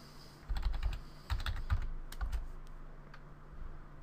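Keys clatter on a computer keyboard while a boot-repair command is entered, a short burst of close, fairly loud keystrokes in quick irregular clusters with no voices.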